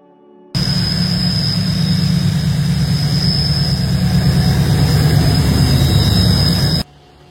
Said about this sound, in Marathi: drone flying